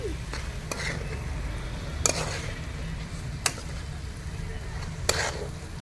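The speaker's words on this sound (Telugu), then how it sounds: "బాగా కలపండి టమాటాస్ బాగా ఫ్రై అవ్వాలి" Tomatoes and onions sizzle steadily as they fry in a pan, with a spoon stirring and scraping at a few points, clear and close with no talking.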